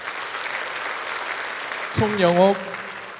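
Continuous audience applause for professors being introduced at a church anniversary concert, a steady clapping wash under which a voice briefly calls out a name.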